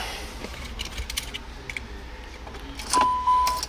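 A car key jingles softly in a hand inside a classic car, a few faint metallic clinks scattered over a quiet interior, with a brief louder rustle near the end.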